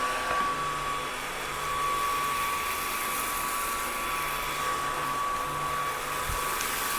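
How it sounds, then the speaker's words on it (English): A cordless vacuum cleaner picking up rice from carpet makes a steady high whine with an airy rush, close and continuous throughout with no talking. "this vacuum doesn't seem to be leaving any rice at all"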